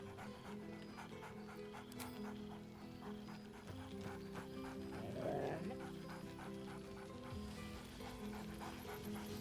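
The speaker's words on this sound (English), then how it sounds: "Scratch barks merrily in something like agreement." Scratch, a dog in the video game Baldur's Gate 3, pants steadily over a low game-music bed, with a short bark rising near the middle before the panting carries on.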